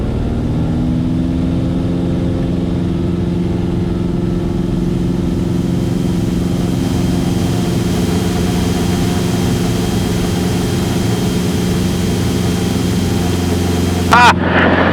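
Small airplane engine at full power on a short field takeoff, a loud, steady droning roar that holds constant throughout, heard from inside the cockpit, with a brief knock near the end.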